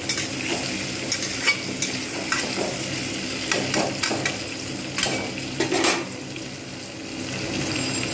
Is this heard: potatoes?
yes